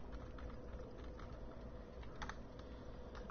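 Typing on a computer keyboard during a Dark Souls 2 gaming session: rapid, irregular key clicks, quiet and steady, with no voices.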